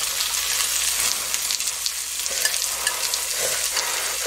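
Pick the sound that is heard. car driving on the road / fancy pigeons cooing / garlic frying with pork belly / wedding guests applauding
garlic frying with pork belly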